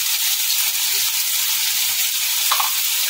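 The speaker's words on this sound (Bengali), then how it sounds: "আলুটা এবার নেড়ে চেড়ে নেব।" Potatoes fry in a pan for an egg curry, a steady bright sizzle and hiss running throughout with a soft scrape or two as they are stirred.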